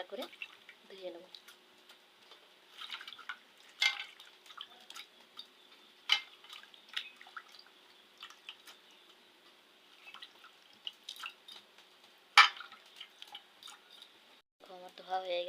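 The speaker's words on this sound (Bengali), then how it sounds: "দেখুন থালা জল দিয়েছি, কুমড়োর ফুলগুলো দিয়ে দেবো, দিয়ে একটা করে ধুয়ে নেব।" Pumpkin flowers are washed one at a time in a plate of water, making soft drips, small splashes and light clinks against the plate. The sounds are faint and irregular, with a brief voice near the end.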